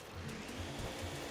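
A steady, loud whooshing suction drone from Luigi's vacuum sucking up a ghost dog in the video game Luigi's Mansion, continuous and unbroken throughout.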